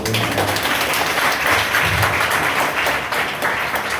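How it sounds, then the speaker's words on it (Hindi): An audience at a seminar in Kolkata claps for mothers, a loud, dense and sustained round of applause from a crowd that stays strong for about four seconds. "आप लोग ताली बजाओगे"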